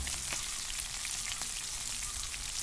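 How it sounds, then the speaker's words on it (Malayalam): Spiced karimeen fish fries in oil in a pan over a fire in Wayanad, giving a steady, dense, hissing sizzle close up, constant throughout with no voices. "ഒന്ന് എണ്ണയ്ക്ക് ഒഴിച്ചിട്ട് നമുക്ക് ചട്ടിക്കകത്ത് വെച്ചിട്ടൊന്ന് വറുത്തെടുക്കാം"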